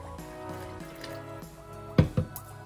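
Water pours into a well of flour and olive oil for pizza dough, a short trickle with a couple of splashy glugs at the end, close and fairly quiet over a faint background hum.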